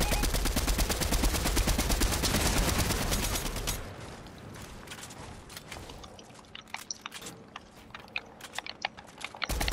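Rapid automatic weapon fire in Fortnite, a loud sustained burst for several seconds, then cutting to scattered sharper single shots and clicks at a lower level.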